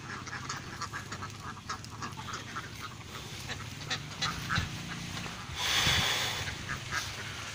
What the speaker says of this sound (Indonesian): ini bebek kali, teman-teman